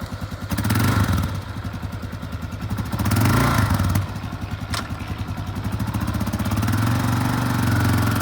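A used 2017 Kawasaki KLR650 dual sport motorcycle engine idles nearby with a rough, pulsing single-cylinder thump, briefly revving twice before settling back to a steady idle.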